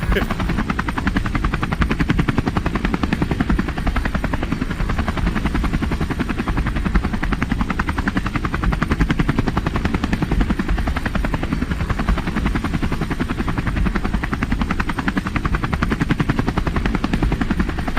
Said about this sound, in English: Wait, who's driving the helicopter?